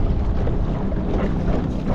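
Strong wind buffeting a kayak on the water while it heads into the wind: a loud, continuous low rumble and roar of wind over the microphone, steady throughout, with no talking.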